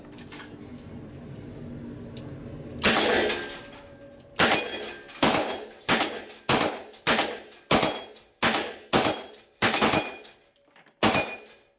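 Gunshots ring off steel targets at a shooting competition, about ten sharp cracks each followed by a metallic clang, fired in a quick uneven rhythm, loud and close with no talk between them.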